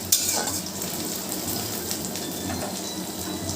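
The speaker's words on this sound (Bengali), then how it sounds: "আর একটু পেঁয়াজটাকে আমরা আগে লাল লাল করে খুব সুন্দর করে ভেজে নেব" Onions fry in a pan for a cabbage dish, a steady close crackling sizzle with a faint scrape or two of a utensil and nobody speaking.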